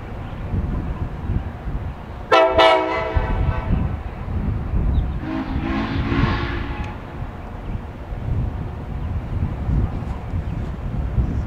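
U.S. Sugar locomotive #148, the Clewiston Comet, sounds a sharp horn blast and then a softer, longer one as it passes in Florida sugar-cane country. A steady rumble and heavy wind noise on the microphone run throughout.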